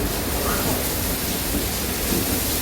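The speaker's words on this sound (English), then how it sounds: "when you have that lightning, it's going to make noise." A thunderstorm's rain hisses in a dense, steady wash, with low rumbling thunder rolling underneath the whole time and no clear separate strikes.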